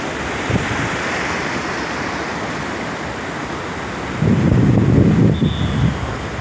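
Sea waves roll onto the beach at Da Nang in a continuous roar of surf with heavy wind buffeting the microphone, and a louder wave surges in near the end.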